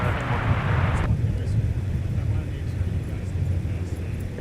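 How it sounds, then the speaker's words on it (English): A Q400 turboprop departing the north parallel runway at an airport, a steady broad roar with a droning rumble heard from a distance, continuous and fairly loud throughout. "We got the Q400 departing off the north parallel,"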